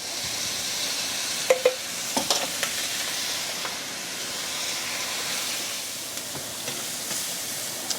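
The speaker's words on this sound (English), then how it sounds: "We're now going to add 4 teaspoons of minced garlic to this, and we're going to cook this for 30 seconds to 1 minute." Minced garlic sizzles in a pan alongside pork chops, a loud continuous frying hiss that runs throughout, with a couple of sharp utensil taps early on.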